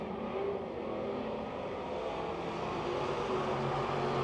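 Race cars roar side by side out of turn four at Pennsylvania Motor Speedway, a continuous loud engine drone holding steady throughout with no break or speech.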